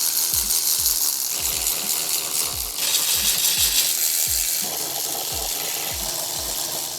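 A hand ratchet cracks loose the header exhaust bolts on a 2026 Yamaha R9, clicking in a steady, close rhythm of roughly two clicks per second over a constant background hiss.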